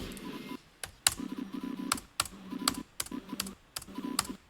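Keyboard clicking in a Five Nights at Freddy's movie scene: sharp, close key clicks in an uneven, repeating rhythm over a low droning hum and faint tones, with no talking.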